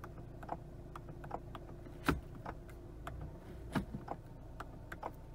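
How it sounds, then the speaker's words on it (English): Gear lever release button on a 2020 Volvo S60 R Design, giving faint, sharp clicks at irregular intervals, a few of them louder, over a low cabin hum, with no talk. "there was this clicking sound which every time it comes"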